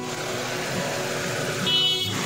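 A Hyundai Eon Magna+ car engine idles steadily with a low, even hum, and a short horn-like tone sounds near the end of the brief stretch.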